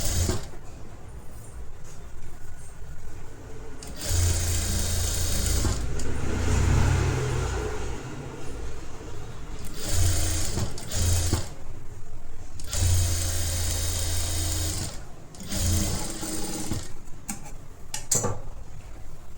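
A sewing machine stitches together the sides of a designer netted blouse in several steady whirring runs with short pauses between them, close and fairly loud, with no talk.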